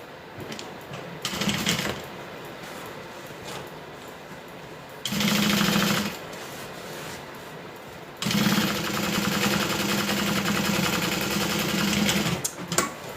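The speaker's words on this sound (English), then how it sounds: "we're going to do a top stitch along this side, just like we did up here" A sewing machine runs top stitching along the side of a custom order piece in three separate bursts, a steady close mechanical whir with short quiet pauses between runs.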